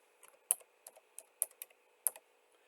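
Keys on a tablet keyboard are tapped to type a table name: a quick, uneven run of about a dozen light, crisp clicks, close and isolated against near silence.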